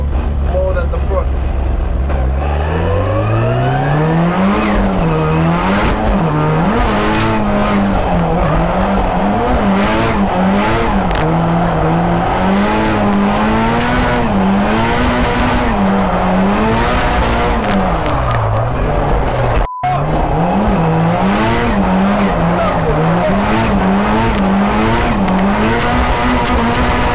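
Nissan Silvia PS13 drifting on a track, its engine wailing loud and close with rising and falling revs as the tires squeal continuously through long slides, with only a brief break in the roar near the end.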